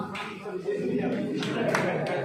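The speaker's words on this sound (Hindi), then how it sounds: "ताली नहीं बजाइए, इसलिए कि मस्जिद है, मस्जिद का एहतराम कीजिए" An audience claps inside a mosque, a brief scattered round of hand claps, fairly close, with some murmuring voices underneath.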